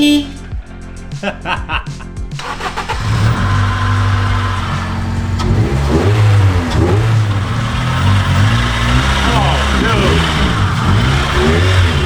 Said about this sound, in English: see how long of a front wheel drive burnout we can do down the street